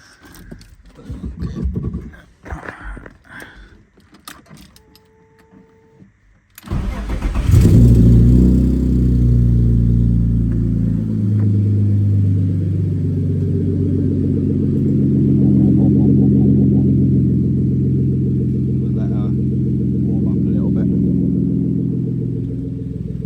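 A BMW E36 engine with a newly fitted Malian exhaust cranks and catches, then settles into a loud, deep, steady idle with a throaty rumble, close by. Brief talk and clatter come before it.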